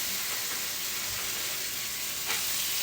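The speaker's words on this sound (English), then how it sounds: "I sear my steaks in pork fat, which is bacon grease." Seasoned ribeye steaks searing in bacon grease in a pan give off a steady, close broadband sizzle that holds at an even level throughout, with a brief flare of hiss near the end.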